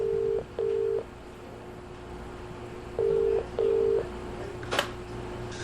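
Telephone keypad tones sound in two pairs of short beeps over a faint line hum, followed by a brief click.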